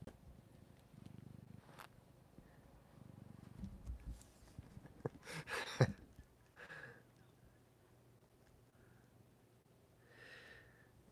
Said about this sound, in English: I wonder if you guys can hear his purrs.